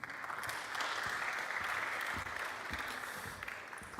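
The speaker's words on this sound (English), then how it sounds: "Let's give him a round of applause" An audience applauds a scientist from the board of directors of UNAM's Center for Complexity Sciences at a science week morning session, a steady, moderately quiet wash of clapping that holds evenly for several seconds with no voices.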